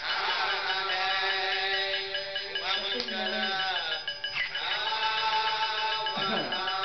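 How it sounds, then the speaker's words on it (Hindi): A phone ringtone plays loudly and steadily throughout, a bright layered melody with repeating tones, while people talk faintly in the background. "मेरा फोन है।"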